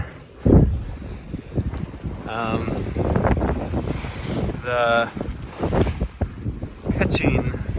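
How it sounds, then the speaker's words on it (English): Wind buffets a small sailboat pitching in waves on the Bay of Biscay as water sloshes against the hull, with gusty rumbles and creaks while a person talks intermittently. "pitching motion of the boat, like the waves have exceeded the wind"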